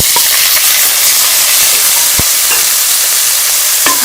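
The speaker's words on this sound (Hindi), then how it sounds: "अब हम इसमें ये बीफ का कीमा शामिल कर लेंगे" Beef mince hitting hot oil with onions fried light golden, giving a loud, steady broadband sizzle throughout with a few sharp spatters and pops, close up and with no talk.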